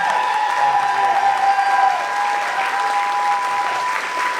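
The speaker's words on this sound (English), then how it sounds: "I would like a great round of applause for my geeks and nerds up here" Audience applause for the performers at a charity comedy show, a steady loud wash of clapping from a crowd, with a sustained tone humming underneath throughout.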